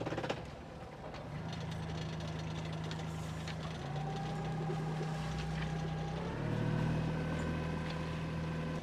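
A sailboat's engine drones steadily, its pitch stepping up twice as throttle is added, ending in a louder, higher hum close by.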